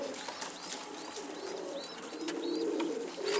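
Pigeons and their young coo in a loft, a steady series of soft rolling coos with faint chirps over a continuous background murmur.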